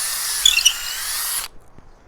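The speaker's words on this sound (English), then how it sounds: "And drill straight up through." A power drill fitted with a 3/8 inch bit bores straight up through a wooden swing-set beam, a loud steady high whine that runs about a second and a half before stopping abruptly, with a few light knocks afterward.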